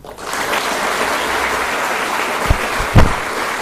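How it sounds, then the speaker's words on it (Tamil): Audience at a Tamil speech event clapping together in sustained, even applause, fairly loud and close, with a couple of sharper thumps near the end. "இந்த 3 பேருக்காகவும் ஒரே ஒரு தடவை மனசார கைத்தட்டிடுங்க."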